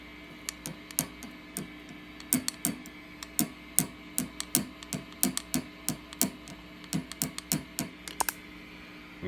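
A microphonic 12AX7 preamp tube in a guitar amplifier being tapped repeatedly, giving a quick series of sharp, clicky ticks with a faint ringing body in a fairly regular rhythm, close and dry with no talking.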